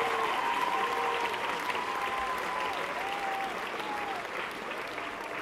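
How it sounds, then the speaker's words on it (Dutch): A crowd at a music awards show applauds steadily for students taking the stage, the clapping continuous and fairly loud, with a voice and brief whistling tones over it. "Groot applaus voor jullie ook."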